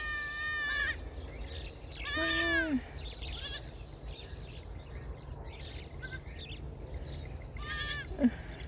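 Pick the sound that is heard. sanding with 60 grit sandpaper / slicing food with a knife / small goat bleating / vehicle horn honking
small goat bleating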